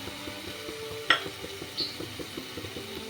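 Fried potato pieces stirred into masala in a pan: a soft steady sizzle under rhythmic spatula scrapes and taps, with one sharp metallic clink, close and without speech.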